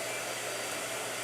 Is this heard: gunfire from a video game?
no